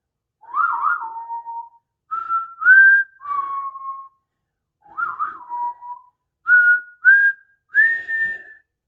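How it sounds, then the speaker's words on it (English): A man whistles the theme of The Good, the Bad and the Ugly alone in a stage scene, clear close melodic phrases with rising and falling glides separated by short pauses. "begins to whistle the theme of The Good, the Bad, and the Ugly to himself"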